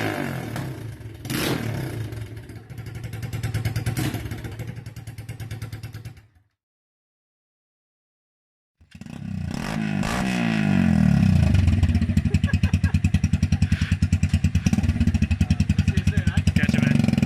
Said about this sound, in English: So this is what the Keeway sounds with a hole